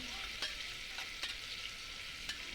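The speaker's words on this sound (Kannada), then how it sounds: "ಈರುಳ್ಳಿ ಚೆನ್ನಾಗಿ ಫ್ರೈ ಆಗಬೇಕು" Onions frying in refined oil with cinnamon and cloves, a steady close sizzle with a few light stirring scrapes, no voices.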